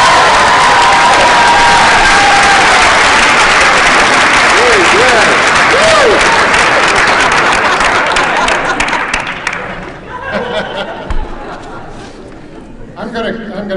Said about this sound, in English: give yourself a firm round of applause for scaring away the wealthiest public utility in the United States.